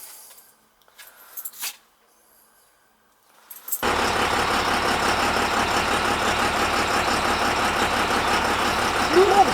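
A car engine drones steadily at close range while driving, starting abruptly after a few seconds of near silence with faint sounds and holding an even, loud rumble to the end.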